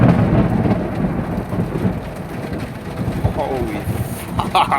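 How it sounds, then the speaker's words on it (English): A thunderstorm with thunder close by: loud rumbling thunder over steady rain, with a person talking briefly near the end. "storm must be like pretty close"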